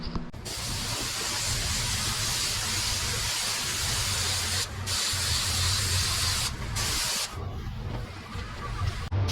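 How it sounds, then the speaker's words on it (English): Spray gun applying high build primer to truck wheel arch panels in a booth, a loud continuous hiss with a few short pauses between passes. "Just because I was spraying some primer,"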